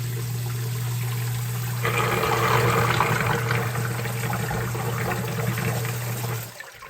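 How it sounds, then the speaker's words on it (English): A sump pump's steady electric motor hum runs beneath water rushing and draining from a basement pit, swelling partway through, then cutting off abruptly near the end. "trip the float switch to drain the water as low as possible"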